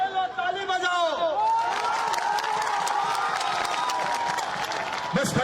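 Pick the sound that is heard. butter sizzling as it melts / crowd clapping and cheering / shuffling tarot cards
crowd clapping and cheering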